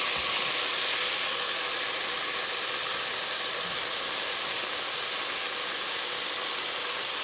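Garlic and peppers cooking in a pan for a vegetarian chili mac, giving a steady, broad sizzle that holds evenly throughout with no talking.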